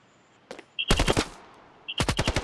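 Two loud bursts of rapid automatic machine gun fire in a video game, close and sharp, separated by a short pause, with a brief electronic beep before each burst.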